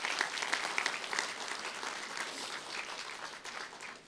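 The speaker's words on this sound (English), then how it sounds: "So please give a round of applause for all of our judges." Sustained audience applause for the judges at the ISE 2020 stand design awards ceremony on the main stage, a dense steady clatter of many hands clapping that lasts throughout without talk.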